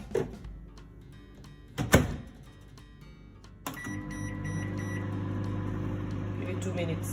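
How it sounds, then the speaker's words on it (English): A microwave oven heating gravy: a door thunk and button beeps, then a few clicks before the oven starts a steady low electrical hum that continues to the end. "Put it in the microwave."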